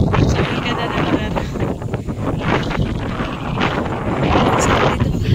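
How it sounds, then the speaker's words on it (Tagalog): Strong gusting wind on a mountain overlooking the sea in Batangas buffets the microphone in a loud, continuous roar that swells and dips, with faint voices underneath. "Muntik nang lumipad ang cellphone ko. Mataas ang hangin."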